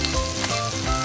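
Bacon and onion frying together in a pan over high heat give a steady, close, crackling sizzle with no voices.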